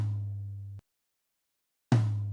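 Two separate tom drum hits from a drum mixing demo, dry and unprocessed: each a punchy low boomy strike with a decaying tail, the first ringing out before a second of silence, then another strong hit ringing on.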